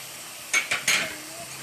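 Red chili powder goes into a sizzling, cooked-down puree for spicy dum aloo potato curry, heard as three quick spoon scrapes and hissy bursts close by, followed by a soft, low sizzle.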